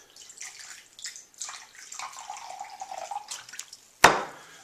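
Vinegar poured into a measuring jug, a soft trickling splash lasting a few seconds, then a sharp clink near the end, close and without voices.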